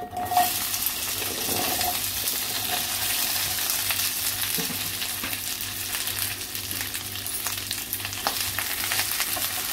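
Okra (bhindi) frying in oil for masala bhendi, a steady broadband sizzle filling the whole stretch, with occasional soft scrapes of stirring and a brief knock near the middle.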